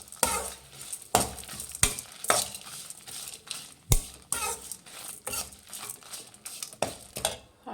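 Grated dry coconut stirred in a pan with the stove switched off, a spoon scraping and clinking against the metal in steady repeated strokes with a faint dry rustle, close by and without talk.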